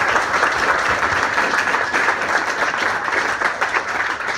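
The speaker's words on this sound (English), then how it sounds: "massive round of applause." A crowd claps steadily throughout, a dense, even wash of applause that stays loud from start to finish with no speech over it.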